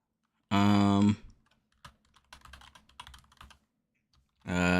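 Keys clattering on a computer keyboard during a typing test, a burst of rapid, light clicking between two loud, sustained harmonic tones at the start and end, close-up with no talk.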